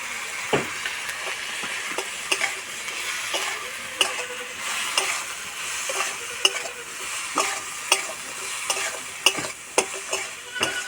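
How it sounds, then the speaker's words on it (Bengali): Ripe ash gourd frying with turmeric, chilli powder and salt, a soft steady sizzle punctuated by rhythmic spatula scrapes and taps against the pan as it is stirred, with no speech. "মশলার সঙ্গে কুমড়ো খুব ভালো করে ভেজে নিয়েছি"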